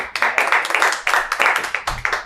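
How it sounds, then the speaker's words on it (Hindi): An audience claps through a class at a training institute for AC and inverter PCB repair, a dense burst of hand claps close by with uneven surges that fade and return. "एक बार इनके लिए भी बजाते हैं ताली"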